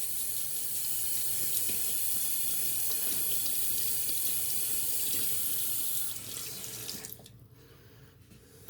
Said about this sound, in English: Going to get my brush nice and wet.